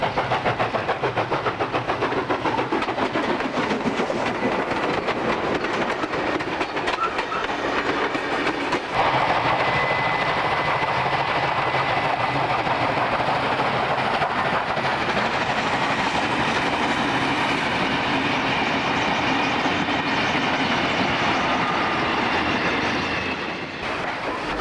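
NSW 3638 steam locomotive hauling a Goulburn–Canberra train near Tarago in 1965, a continuous rumbling roar of the moving train with rhythmic rail clatter that grows fuller partway through and fades slightly at the end.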